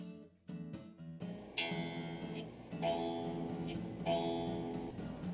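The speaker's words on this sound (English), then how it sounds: "When proper tension is achieved, the X-axis wire should sound like this." Taut X-axis drive wire on a QBOT quilting machine plucked several times, each pluck giving a bright twangy ring with a lingering metallic tone, close and fairly quiet.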